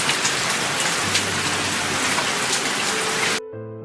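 Steady heavy rain pours down during a storm over a farm field, a dense continuous hiss that cuts off abruptly near the end.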